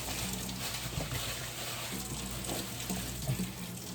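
A kitchen tap runs while hands are washed under it, making a soft, continuous hiss of water with faint splashes close by. No one talks.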